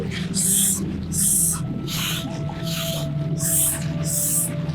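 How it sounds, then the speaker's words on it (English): Five or six breathy hissing S exhalations in a steady rhythm, each lasting about half a second, over low background murmur. "you can make breath out with a small resistance with a sound S"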